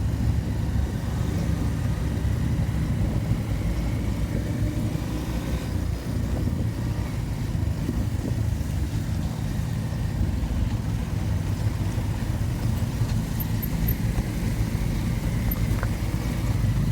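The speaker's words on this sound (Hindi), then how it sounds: "खतरनाक ट्रैफिक हो गया है यहाँ पे रंगखलान बोलते हैं।" Cars and other engines in congested road traffic at Rangkhlan, Diphu, Karbi Anglong, produce a constant low rumble of idling and crawling vehicles, steady and close without a break.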